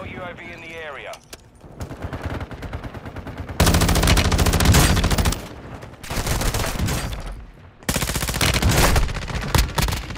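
Video game gunfire rattles in long, loud automatic bursts broken by short pauses, with shouted voices talking over and between the shots.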